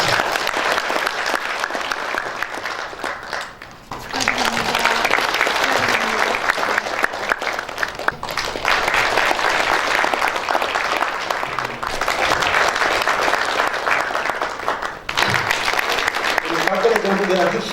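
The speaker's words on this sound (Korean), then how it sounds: "우리 회장님 때 큰 박수 좀." Large audience at an award ceremony breaks into sustained applause in several long waves, with brief dips between bursts and the clapping dense and fairly close throughout.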